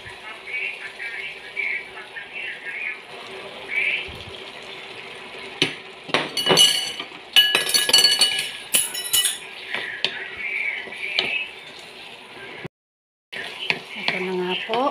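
Eggs poured into a pan of sautéed onion, tomato and garlic bring clinks of utensils against the pan and stirring over a low frying sizzle, with a few sharper knocks midway and a brief silent gap near the end.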